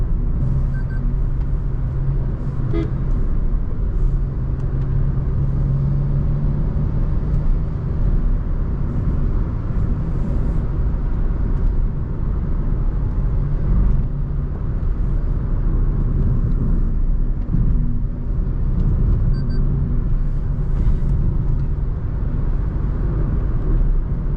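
A 2025 Fronx Alpha car drives on hilly ghat roads, giving a steady, loud broadband rumble of engine and road noise from inside the cabin, continuous throughout with no talk.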